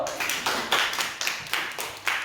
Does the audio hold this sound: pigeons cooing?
no